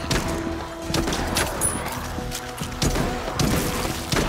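Rapid rounds of gunfire in Arizona Sunshine 2, with bursts of loud, close shots and heavy thumps in quick irregular clusters over a busy, chaotic mix.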